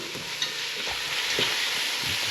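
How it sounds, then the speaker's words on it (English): Seasoned venison is stirred in a pot, with a soft continuous sizzle under a few scraping strokes of the spoon, heard up close and without talk. "Keep on stirring that around."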